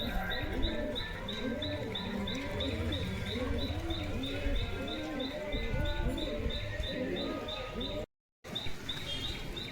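Many pigeons coo continuously in a loft, layered rolling calls filling the space at close range, with a steady high chirping tone repeating above them and a brief dropout near the end.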